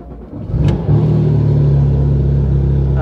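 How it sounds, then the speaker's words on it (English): A Porsche 911 GT3 exhaust starts up and revs, with a quick sharp blip followed by a loud, steady, deep drone close by. "let's take out for a spin and you'll hear what I'm talking about with this exhaust"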